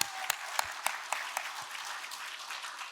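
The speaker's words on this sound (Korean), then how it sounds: "우리 주님께 영광의 박수 드리겠습니다." Congregation clapping during a Christmas candlelight church service, a moderate, fairly soft round of applause with a few sharper rhythmic claps standing out at regular intervals.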